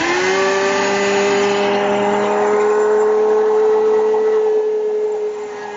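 A power tool roars steadily through a plunge cut for a mortise in a woodworking shop. The loud, close motor tone holds for several seconds and then begins to drop off near the end.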